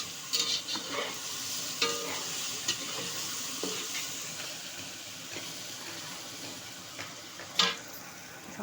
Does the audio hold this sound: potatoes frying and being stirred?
yes